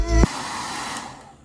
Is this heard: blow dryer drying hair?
yes